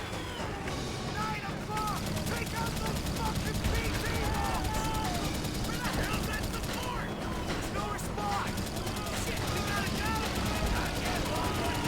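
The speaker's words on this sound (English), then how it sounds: "Taking heavy fire from enemy aircraft." Dense, continuous gunfire and clattering combat noise from enemy aircraft attacking in World at War fill the whole stretch at a steady loud level, layered with whistles and mechanical rumble.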